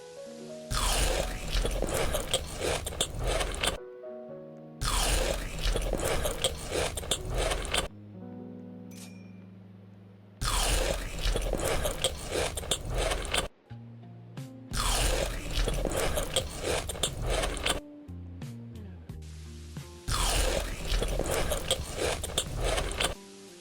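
Someone bites and chews crunchy white chili cookies close to the microphone, with loud crisp crunching in repeated bursts separated by brief quieter pauses.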